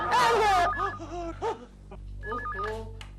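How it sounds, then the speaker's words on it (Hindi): A telephone rings indoors in a Hindi sitcom household, sounding in two short bursts of warbling, trilling tone separated by a pause, with a voice speaking near the start. "फोन क्यों नहीं उठाते?"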